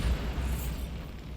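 A Bombarda spell goes off in Hogwarts Legacy, a short, dull booming explosion with a low rumble that fades quickly.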